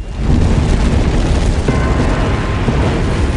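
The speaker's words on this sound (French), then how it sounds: "Et quelque temps après, le volcan a explosé" A deep, loud, continuous roaring rumble fills the scene as the Santorini volcano erupts explosively, a dense low-heavy blast with no distinct breaks.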